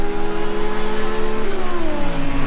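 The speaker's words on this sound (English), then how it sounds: "That was mad traction out of the corner from the Audi R8 then." An Audi R8 GT race car in a British GT race at Spa pulls hard out of a corner. Its loud, close engine note climbs steadily, then drops back with a gear change and keeps revving on.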